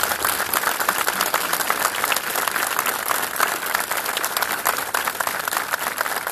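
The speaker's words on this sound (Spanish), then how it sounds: "quiero que nos unamos en comunidad para brindarles un fuerte aplauso" Community crowd applauding at an outdoor Flag Day ceremony in San Carlos Centro, a dense, steady round of many hands clapping, loud and continuous without pause.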